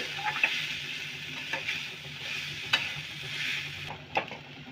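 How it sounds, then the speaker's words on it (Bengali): Potato being stirred and mashed into a veg cutlet mixture, a steady close scraping and mixing with a few sharper taps of the utensil, no talking. "আলুটা দেবো এবার ভালো করে মিক্সড করে নেব সবগুলোর সাথে"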